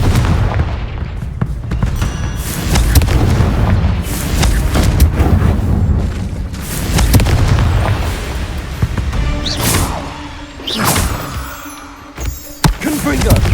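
Confringo fire-spell blasts in the game Hogwarts Legacy, a run of heavy booms and crackling gunfire-like bursts that swell and fade, with a voice calling out among them.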